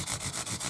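Fine 1200-grit sandpaper rubbed back and forth over the frets of a Dean Dime Bag Darrell guitar, a close, steady rhythmic scratching in short strokes with no talk.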